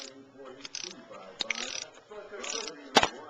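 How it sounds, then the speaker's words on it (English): A Matco ratchet wrench clicks in short bursts during work on a Saturn intake gasket, with a sharp knock near the end and talk over parts of it. "That's a Matco clicker you hear."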